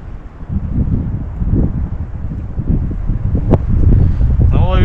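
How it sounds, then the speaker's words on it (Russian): Wind gusting into a microphone on a frozen lake during winter ice fishing, loud buffeting low rumbles that rise and fall in uneven bursts, close and continuous. "Ветер, конечно, не знаю, там по записи что получится."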